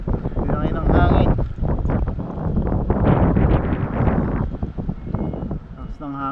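Strong gusting wind buffets the microphone outdoors in loud, rough bursts that rise and fall throughout, with a voice partly heard under the roar.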